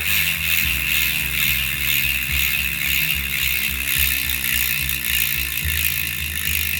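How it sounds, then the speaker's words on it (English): Carbon bicycle wheel with carbon spokes and ceramic bearings spinning freely on a 36-tooth ratchet hub, giving a steady, loud mechanical buzz with a fast ticking pulse close by, with no voices. "So these are a 36 tooth ratchet system in there. So let's give them a little spin."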